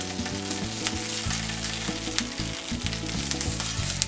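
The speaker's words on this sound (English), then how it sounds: "start making noises because they're starting to get roasted, or you could say toasted" Salsa ingredients roast on a hot pan with a steady, close crackling sizzle and occasional sharp pops, with no talk.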